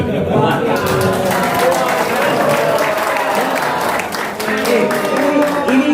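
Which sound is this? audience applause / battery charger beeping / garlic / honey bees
audience applause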